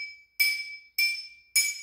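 Three evenly spaced bright clinks ring out as empty drinking glasses are tapped, each strike leaving a clear sustained tone that fades before the next.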